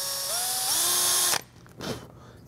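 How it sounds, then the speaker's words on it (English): A power drill bores a pilot hole into a 3D-printed dagger, a close, steady high whine with rising pitch that cuts off abruptly, followed by a brief softer burst. "So I'm going to drill a pilot hole with a smaller drill bit first, and then I'm going to come in with a bigger guy after"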